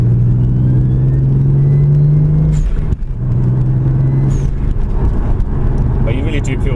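Toyota Supra MK4 engine with a 1JZ or 2JZ turbo straight-six pulling in cold weather, a steady in-car drone rising in pitch, briefly dropping at a gear change, then climbing again, with voices talking over it.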